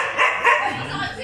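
Dogs at a house bark in two quick sharp yaps close by, followed by softer whimpering, with a voice audible alongside.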